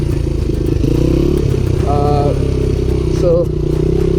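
A 1988 Honda XR100 motorcycle engine runs with a close, steady putter and clatter, while a person talks over it.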